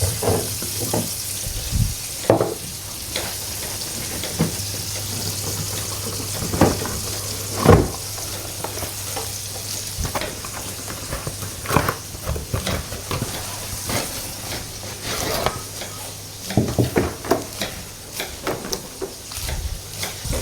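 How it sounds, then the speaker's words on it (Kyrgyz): Fish fry in a pan with a continuous, close sizzle and a steady background hiss, broken by irregular clatters and knocks from handling in the kitchen. "биздин балыктарыбыз бышып бүттү. Прям хрустящие рыбы болуп."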